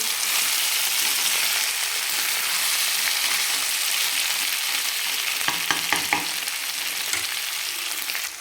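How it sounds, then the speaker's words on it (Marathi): Mutton for a dry Maharashtrian-style dish fries in a pan with a steady, fairly loud hiss, joined near the end by several quick scraping stirs and knocks of a spatula, without talk. "हे अशा पद्धतीनं आपलं पूर्ण सात मिनिट परतून घेतलं आहे मी"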